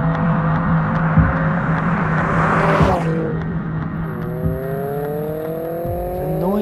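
A supercharged Lotus Elise S2 sports car revs its engine hard, rising to a sharp peak, then drops back and climbs again through rising tones, loud and close with no talking.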